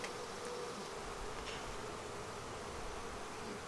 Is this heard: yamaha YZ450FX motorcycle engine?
no